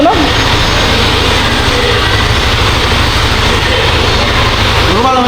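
A vehicle engine running steadily while being checked for abnormal noise, a loud continuous low rumble and drone close by with voices talking briefly over it.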